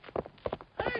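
Several horses' hooves clip-clop in uneven clusters, fairly close and moderately loud, as a bunch of horses needing new shoes is brought to a blacksmith's place; voices are faintly present.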